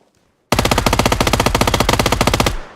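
A new 9mm automatic gun in the PUBG video game fires one loud, close burst of about two seconds, with rapid, evenly spaced shots that stop sharply and leave a short fading echo. No one talks.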